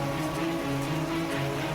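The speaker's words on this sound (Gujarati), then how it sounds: "દ્વારકામાં ફરી એકવાર 10 ઇંચથી વધુ વરસાદ પડતા ચારે તરફ તબાહી જ તબાહી મચી ગઈ છે" Heavy monsoon rain pours down in Dwarka, Gujarat, a dense, steady roar of rainfall close by that holds an even level throughout the short stretch, with no voices.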